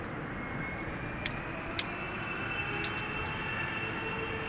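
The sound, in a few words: Vueling airplane at Amsterdam Schiphol Airport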